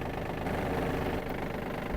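A Yanmar RS-240 mini tractor's engine idles steadily while warming up, a continuous low mechanical rumble with a faint knocking texture, close by and alone without talk.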